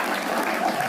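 Applause from a stand-up comedy audience fills a brief moment, a dense, even clatter of many hands clapping at steady loudness.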